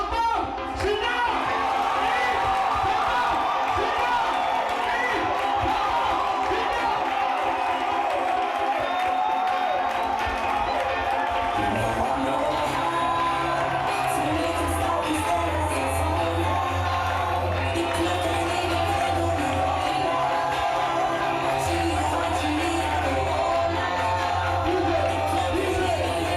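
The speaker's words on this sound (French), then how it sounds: "J'ai l'honneur de vous demander d'applaudir Monsieur Yves Samba" A French-speaking audience greets Monsieur Yves Samba with sustained applause and cheering, a loud, continuous crowd roar with whoops and shouts, joined midway by low music.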